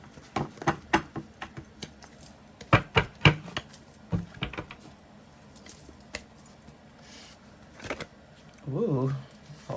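Cards riffle and snap in short, irregular bursts with pauses between, handled close by, ending in a longer flurry of shuffling.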